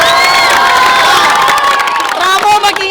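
A live crowd at a Filipino street rap battle cheers and shouts loudly and continuously, a dense wall of voices with whistles and yells rising and falling.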